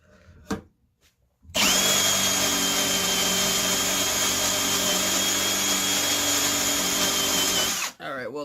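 A power drill strains as its bit struggles to bore through hard material and starts to burn, a loud steady whine grinding on for about six seconds after a short quiet start with a brief knock, then cutting off.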